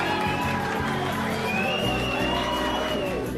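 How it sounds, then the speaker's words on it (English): A crowd cheers and whoops for award winners at a Gumball 3000 rally ceremony, a dense sustained roar of voices lasting the whole moment. "Give them a cheer."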